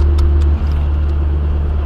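Steady, loud engine and road drone from a car driving from Mali toward Senegal after a garage service in Bamako, a continuous low rumble heard from inside the vehicle with no talk.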